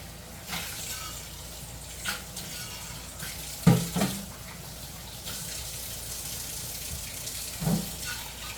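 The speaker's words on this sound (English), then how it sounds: "Let me rinse my lids real quick." Tap water runs softly and steadily, with a few louder splashes and clinks as canning jar lids are rinsed under the stream.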